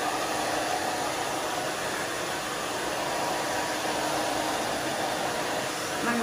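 A hair dryer blows in a steady, loud, unbroken roar as short, wavy, thick pixie-cut hair is dried at the back.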